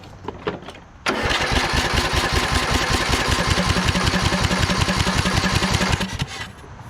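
A Craftsman LT2000 lawn tractor engine cranks hard for about five seconds with a fast, rhythmic chugging that never quite catches, then stops; close and loud, no talking.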